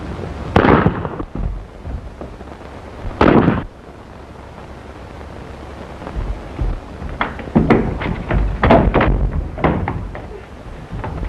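Gunshots in a 1932 film, two loud sharp bangs early on followed by a quick cluster of several more reports later, with quieter background between them.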